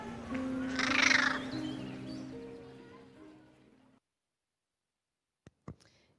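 Crows call from nearby in an urban setting, a few harsh, loud caws up front that fade out, followed by silence and two faint, brief sounds near the end.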